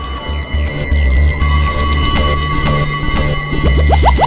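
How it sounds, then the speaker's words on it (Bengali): A telephone rings loudly in an animated comedy scene, with bright repeated electronic chimes and bell-like tones that sound close up and continue over a low background. "ওহো, আবার ফোন।"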